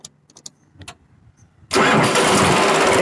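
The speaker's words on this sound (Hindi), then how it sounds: "तो अभी आप देखना एक ही झटके में ट्रैक्टर स्टार्ट होगा।" A Sonalika 42 DI diesel tractor engine catches on the first crank after a few faint clicks, then settles straight into a loud, steady diesel run that continues to the end.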